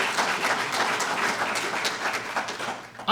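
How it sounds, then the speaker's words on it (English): Audience applause at a scholarship banquet, a dense, even burst of many hands clapping at moderate volume that holds steady for a few seconds. "give yourselves a round of applause"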